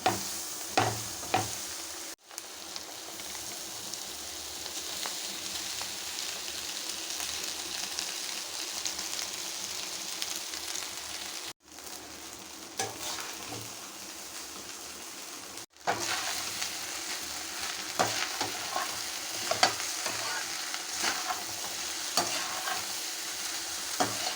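Rice sizzles in a hot frying pan while a spoon scrapes and stirs it steadily, with a few sharper clatters along the way, while making beef rice.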